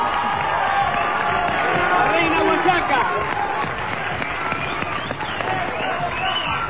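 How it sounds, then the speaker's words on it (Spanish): Studio audience at a live Chilean talent-show gala applauds and cheers for a contestant, a dense, sustained crowd roar with clapping that stays loud throughout, with a host's voice talking over it. "Aplauso para Karen, Reina Huachaca."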